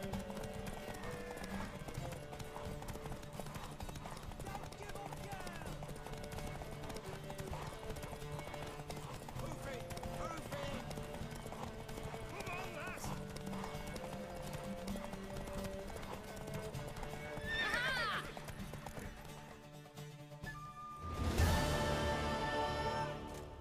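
Horse hooves clip-clop steadily through a long stretch in The Witcher's Velen region, with a brief neigh late on and a burst of game sounds near the end, while voices talk faintly underneath.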